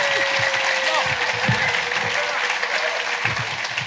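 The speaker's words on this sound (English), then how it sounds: "give a massive round of applause" A theatre audience breaks into a sustained burst of clapping at a live comedy chat show recording, dense and fairly loud, holding steady for about four seconds with no speech over it.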